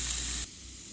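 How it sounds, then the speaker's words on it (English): Pork chops browning in a pan give off a loud, bright sizzle that cuts sharply to a quieter, steady hiss partway through, with no voices. "I got these sizzling pork chops here."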